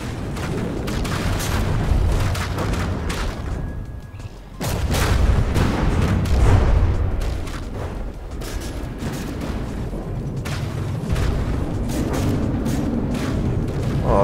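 Heavy explosions from a missile strike in a vehicle combat video game, a dense run of loud booms and blasts with a brief drop in the middle before the barrage resumes.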